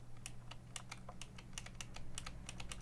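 An Alfawise V1 mechanical keyboard with German Black switches types up close in a quiet room, giving a steady run of sharp two-stage clicks and clunks over a low hum.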